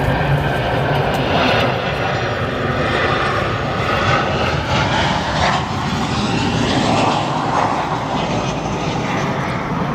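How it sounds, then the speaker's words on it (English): An American Airlines airliner landing at O'Hare airport produces a continuous loud engine roar with a broad, steady wash of noise throughout, fairly close. "We'll come here to our arriving American Airlines flight just after our United Express go-around."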